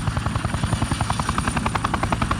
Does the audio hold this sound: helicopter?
yes